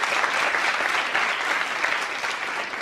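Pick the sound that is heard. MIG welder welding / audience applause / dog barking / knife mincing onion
audience applause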